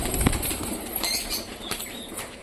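A Giribaz pigeon flaps its wings in flight over a rooftop, giving soft, fluttering wingbeats in short bursts against steady outdoor background noise, with no voices.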